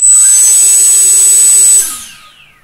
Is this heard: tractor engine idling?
no